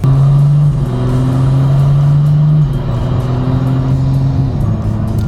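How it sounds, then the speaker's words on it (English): BMW F30 with a flashed automatic transmission accelerating, engine drone climbing then dropping sharply twice as the gearbox shifts up, heard from inside the cabin. "And that's the car shifting, that's not even me."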